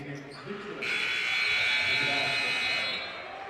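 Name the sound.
basketball game buzzer at end of half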